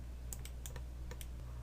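Keys clatter on a computer keyboard while numeric values are entered into Cinema 4D R23 scale fields: about seven quick, light taps in an irregular rhythm, close and fairly quiet over a steady low hum.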